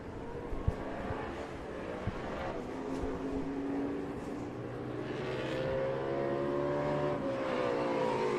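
Vintage and Trans Am race cars roar past near turn 20 at Austin, engines rising and falling through several passes, with a growing, sustained engine drone toward the end and a few sharp clicks at moderate distance.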